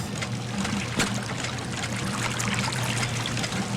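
Water in the Sherlock Holmes: The Devil's Daughter game flows steadily with a soft trickling, pouring hiss and a single faint knock near the start, no voices.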